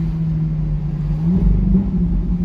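A Ferrari 458 with a naturally aspirated V8 and a Capristo exhaust, a close, deep droning rumble that swells briefly as the throttle is gently opened, then settles back.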